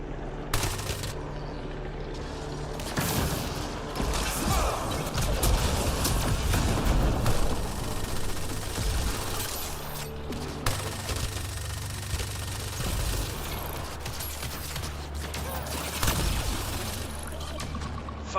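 SMG fire rattles through a Mass Effect: Andromeda firefight, rapid bursts mixed with crashing impacts and rumbling battle noise, loud and continuous, with sharp louder cracks early and late.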